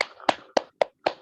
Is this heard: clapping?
yes